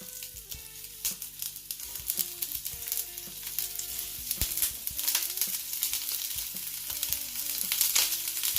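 Tekirdağ köfte meatballs sizzling in hot frying oil, a steady dense crackle and hiss that builds slightly louder toward the end, with faint background music and no talk.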